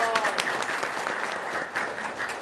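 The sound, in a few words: audience applauding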